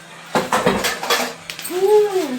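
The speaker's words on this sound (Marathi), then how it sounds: "बिचारी भांडी घासते" Dishes clattering and scraping in a home kitchen during late-night washing up, a few sharp clinks followed by a brief whining tone.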